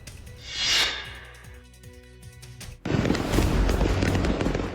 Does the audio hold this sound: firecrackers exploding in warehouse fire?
yes